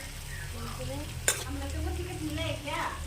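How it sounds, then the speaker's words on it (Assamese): Broiler chicken meat frying in a pan gives a steady close sizzle with stirring scrapes and one sharp clink about a third of the way through. "এইফালে ব্ৰইলাৰ মাংস বনাই আছোঁ"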